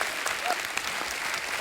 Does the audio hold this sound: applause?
yes